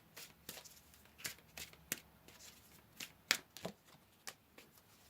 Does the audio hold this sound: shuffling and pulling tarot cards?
yes